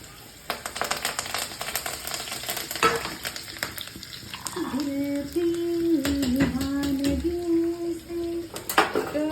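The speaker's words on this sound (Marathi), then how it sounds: "मग जिरे, मग टाकणार आहे सुकलेल्या मिरच्या आणि कुटलेलं लसूण." Cumin, dried chillies, crushed garlic and curry leaves crackle and sizzle in hot oil for a dal tempering, a busy loud spitting with clinks of a spoon stirring the pan and some background tones.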